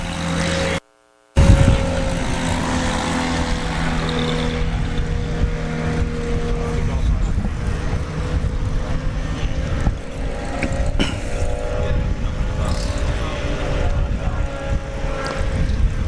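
Piston engine of a Super Patriot STOL aircraft during a short takeoff and landing demo at an airshow, a steady loud drone with a propeller hum that carries on throughout after a brief cut near the start.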